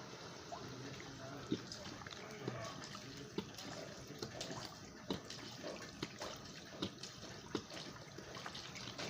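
Steady running water pours and splashes continuously into a large cooking pot at close range, with faint clinks and a few soft voices in the background.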